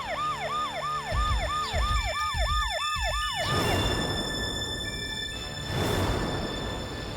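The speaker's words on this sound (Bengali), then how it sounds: "পুলিশের গাড়ি আসছে" A police car siren wails, cycling rapidly up and down, loud and close, then gives way to passing traffic noise and a second faint swell.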